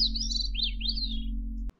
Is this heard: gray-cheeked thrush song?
yes